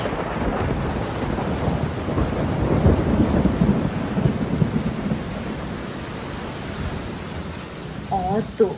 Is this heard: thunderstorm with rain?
yes